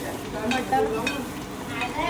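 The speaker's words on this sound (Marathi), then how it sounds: "कांद्याला फोडणी दिलेली आहे" Onions sizzle in hot tempering oil for a mixed pea and vegetable dish. The frying is close and continuous, with stirring scrapes layered over the crackle.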